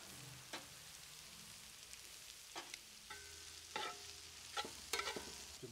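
Skirt steak fajitas cook on a PK grill with a soft, continuous sizzle, broken by scattered clicks and scraping taps of a utensil moving the meat, heard close but quiet.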